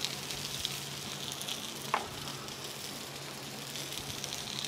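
Onions fry in a pan with a steady, close sizzle and crackle, a brief clatter of stirring breaking through midway before the hiss settles back.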